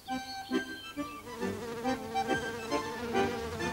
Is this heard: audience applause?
no